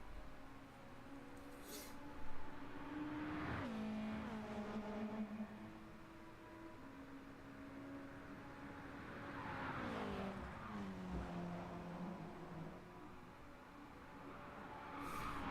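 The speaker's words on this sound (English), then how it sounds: "I can't even make a corner without spinning the car around." A race car in the Gran Turismo video game spins out on a corner, with a wavering engine drone, repeated tire squeals and skidding, all fairly quiet and without speech.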